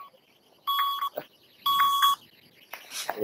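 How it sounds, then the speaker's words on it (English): Two bursts of rapid electronic beeping sound close by, each lasting about half a second, separated by brief rustling noises. "Is there a way I can shut that beeping off?"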